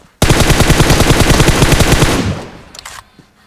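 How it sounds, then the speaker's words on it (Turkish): Automatic weapon fire in the mobile battle-royale game PUBG Mobile: one loud, close, sustained rapid burst of about two seconds that tapers off, followed by a few faint clicks. "Bilo'yu nasıl vurdum gördün mü Sedat?"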